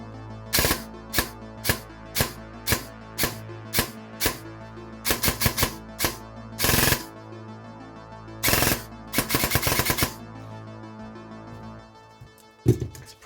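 A Novritsch SSR90 airsoft rifle fires in a string of sharp, close, evenly spaced snaps, followed by a few quicker rattling bursts and mechanical clicks, then quiet.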